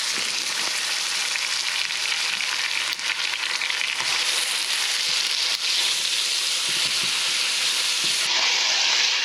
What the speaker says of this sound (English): Got that wok extremely hot right now, so it should go pretty quickly